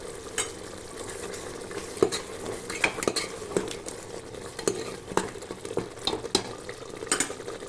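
A spoon stirs mutton masala through a sizzling pot of mutton pulao, scraping against the metal in repeated close strokes over a steady frying hiss.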